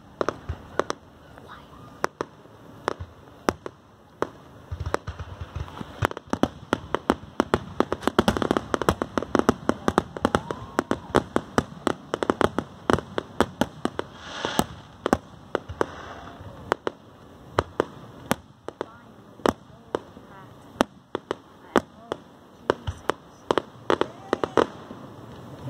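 Fourth of July fireworks and firecrackers go off in a long irregular series of sharp pops and bangs, some in quick clusters and some spaced apart, with people talking quietly between them.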